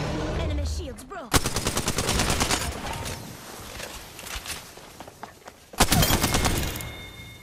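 Automatic gunfire in the battle royale shooter Apex Legends: loud rapid bursts of shots, with a sharp opening crack, a long stuttering volley and a final heavy burst near the end.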